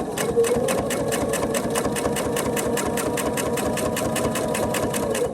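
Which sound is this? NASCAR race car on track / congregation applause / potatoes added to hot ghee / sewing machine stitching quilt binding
sewing machine stitching quilt binding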